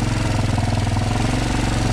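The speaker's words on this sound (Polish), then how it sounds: "Troszeczkę daję gazu," A Kawasaki KLF 300C Bayou quad's engine runs with the throttle opened slightly, giving a loud, steady, pulsing drone with a rapid rhythmic thrum close to the microphone and no speech over it.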